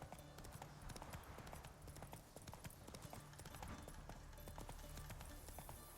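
Roach, the horse in the Witcher 3 video game, trots along with a rapid, continuous clip-clop of hooves that stays close and fairly loud throughout.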